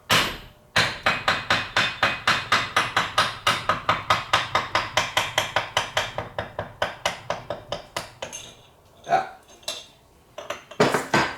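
Dozens of quick, sharp metallic lead hammer taps on the shaft of a Kawasaki Ultra 150 jet pump ring out in a steady rhythm, slowing to scattered strikes near the end.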